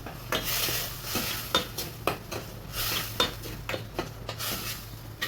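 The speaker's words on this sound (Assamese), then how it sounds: "দি এইখিনি এতিয়া ধুনীয়াকৈ ভাজি ল'ম" Jackfruit being fried with turmeric and salt, a utensil scraping and clanking against the pan in steady repeated strokes over a soft constant sizzle, close and moderately loud.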